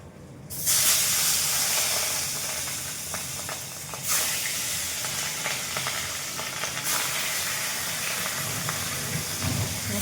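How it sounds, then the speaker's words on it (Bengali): Fish frying in a pan in a home kitchen gives a loud, steady sizzle and hiss that runs unbroken throughout, with no talking. "এই যে সব মাছ ভেজে নিচ্ছি আর মাছ করছি এটা"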